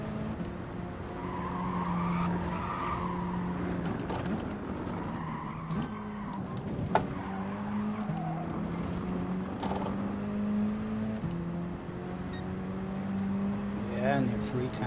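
In a racing video game, a car's engine drones steadily while its tires squeal and scrub as it understeers through corners, with a voice talking over the game sound.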